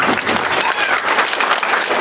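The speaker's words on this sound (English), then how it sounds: "I would like for you to clap now" An audience at a school musical of the Big Bad Wolf story claps to vote the wolf guilty, a loud, dense burst of many hands that holds for about two seconds.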